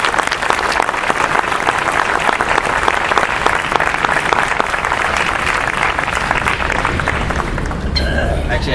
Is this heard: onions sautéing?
no